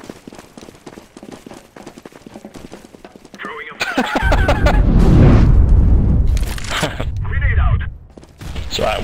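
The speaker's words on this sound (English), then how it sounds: "I'm throwing a flashbang." A flashbang grenade detonates in CS:GO with a loud, sustained boom and roar that swells midway and rolls on for several seconds, following a stretch of busy clicking and footstep-like clatter from the match.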